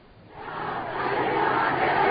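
A large crowd in Iran chanting a call for jihad, a dense roar of massed voices swelling steadily louder and filling the clip without a break.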